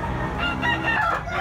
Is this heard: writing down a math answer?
no